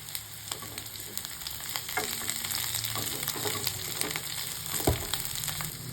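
Chopped onion, capsicum and carrot frying in a pan for white sauce pasta, a steady oily sizzle with occasional scrapes and clinks of a spatula, close and continuous with no voices.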